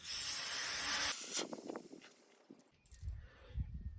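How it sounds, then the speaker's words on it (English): Air hisses loudly out of an opened valve stem on a Kawasaki Mule SX UTV tire for about a second, then cuts off, followed by faint handling clicks and low thumps. "That cover doubles as a little tool here to let the air out of your tire."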